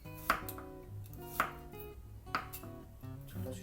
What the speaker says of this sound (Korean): 채를 썰어 주시면 돼요.